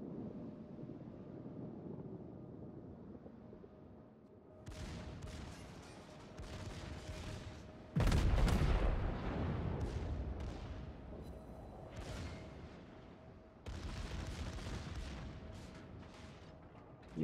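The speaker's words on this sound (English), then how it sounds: "you see the secondaries blazing away" Secondary guns on the battleship Nagato in World of Warships fire at an enemy Benson destroyer, heard as a series of sharp booms over steady wind and sea noise, with louder bursts at intervals.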